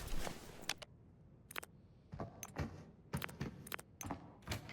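Drawers being searched in a video game, a string of sharp rattling, jangling clatters in separate bursts with brief quiet gaps between them, close and fairly loud.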